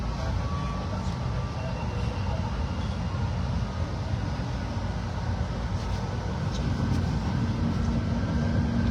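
An MRT commuter train heard from inside a carriage, a loud continuous low rumble and hum that holds steady throughout, with faint high squeaks and clicks over it and no talking.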